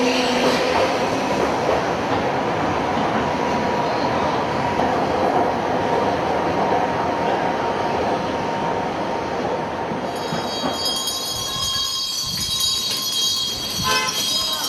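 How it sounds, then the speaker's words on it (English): Beijing subway train running, a loud continuous rumble and rushing roar heard from on board, easing toward the end as higher squeals and tones rise in. "The subway runs every 3 or 5 minutes"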